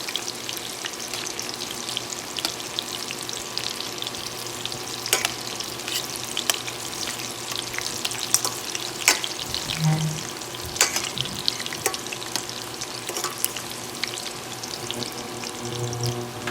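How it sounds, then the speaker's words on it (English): Coconut shrimp fries in hot oil with a continuous bubbling sizzle, dotted with sharp crackles and pops, heard up close with no talk. "You're going to cook it until it's brown, golden brown."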